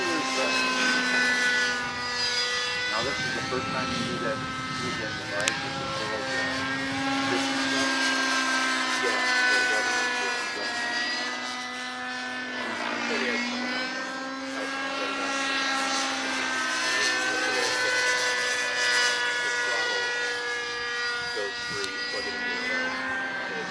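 A large Raptor 50 radio-controlled helicopter flies nearby, a continuous buzzing engine and rotor whine with the pitch rising and falling through manoeuvres, as people talk over it.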